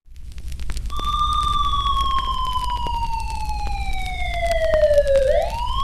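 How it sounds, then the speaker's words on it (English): A single siren wails steadily with a slowly falling pitch, then rises sharply near the end, loud over a low rumbling background. "it's sirens echoing through fog"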